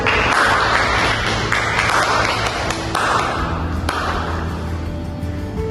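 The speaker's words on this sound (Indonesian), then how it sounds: "Tepuk tangan juga untuk nomor 1." Classroom applause for a student group, several people clapping in a dense burst that gradually thins out, fairly close and loud.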